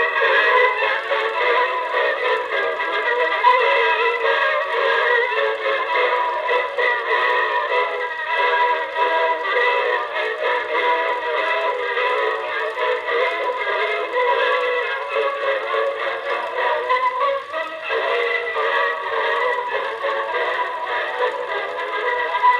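A record plays on a Bingola children's toy gramophone fitted with a heavy Meltrope III soundbox, its motor struggling at 78 rpm; the thin, boxy midrange music runs steadily and fairly loud with faint surface noise throughout, no talking.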